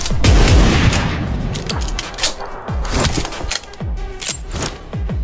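Shotgun blasts in a shooting video game, fired in repeated heavy bursts at close range, each with a sharp booming crack over a constant layer of in-game noise.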